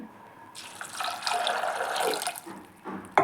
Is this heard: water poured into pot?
yes